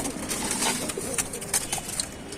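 Pigeons at a loft in Tanta cooing softly and steadily in a close, continuous murmur, with faint rustles and brief brighter calls scattered through.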